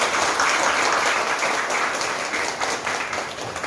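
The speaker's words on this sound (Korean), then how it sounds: "다시 한번 박수로 한번" A church congregation applauds at a pastor's installation thanksgiving service, steady dense clapping held at an even level throughout, fading slightly toward the end.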